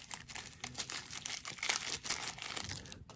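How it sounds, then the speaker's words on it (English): Close, quiet crinkling of a plastic bag with an irregular rhythm of rustles and crackles, heard alone while a Rough Rider tortoise shell knife is handled. "plastic bag."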